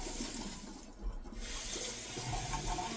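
Tap water runs steadily from a faucet to rinse out an empty tin can after cooking. It makes a close, continuous splashing rush for a few seconds with no talk.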